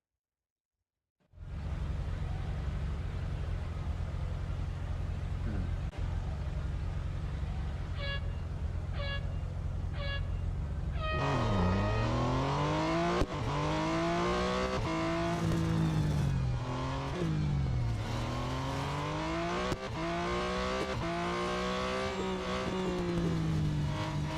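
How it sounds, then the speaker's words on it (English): In the Real Racing 3 racing game, a Porsche 911 Turbo S runs an autocross event at Laguna Seca. After a second of silence, a steady engine roar sets in, then rises and falls through repeated revs and gear changes, with brief horn-like tones. "let's race the Porsche 911 Turbo S in the Autocross event around Laguna Seca"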